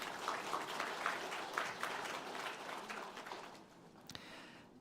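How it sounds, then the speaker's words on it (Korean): Congregation applause during a Korean church Sunday service, a steady, moderately distant wash of clapping from a large crowd that fades out after about four seconds, ending with a single knock. "큰 감사와 격려의 박수 하겠습니다"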